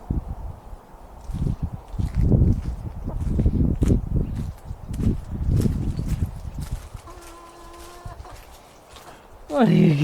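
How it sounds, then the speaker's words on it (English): Chickens cluck in short, scattered calls near the end, after a stretch of louder muffled talk and movement nearby on a small vegetable-growing plot. "There are the chickens."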